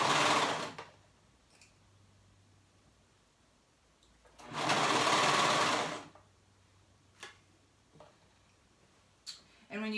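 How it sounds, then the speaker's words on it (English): Sewing machine stitching the raw edges of a child's romper, running in two steady whirring bursts of a second or more each, close up, with quiet handling clicks between. "now I'm going to go ahead and start from the back and sew the raw edges together"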